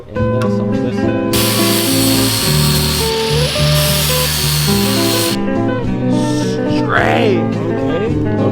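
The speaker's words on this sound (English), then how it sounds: "we're gonna have to grind this side down" A power tool grinds down a car axle part in a loud burst lasting several seconds, its harsh high-pitched whine cutting in and out over a steady mechanical drone, with talk in the background.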